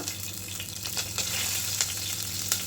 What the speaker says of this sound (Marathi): जिरं आपला तडतडला आहे तर हिरवी मिरची टाकूया